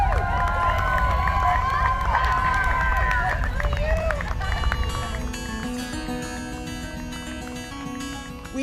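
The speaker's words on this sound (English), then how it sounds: "more supporters were cheering us on" Supporters cheer and shout as riders arrive at the Kansas state capitol in Topeka during a memorial ride for fallen officers, a loud crowd roar with engine noise that thins out toward the end.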